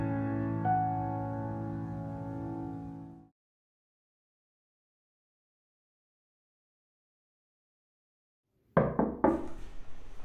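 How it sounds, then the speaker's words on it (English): Rapid knocks on a door ring out loud and close after a long silence in a staged choir performance, with sustained music fading out before the pause. "Knock knock."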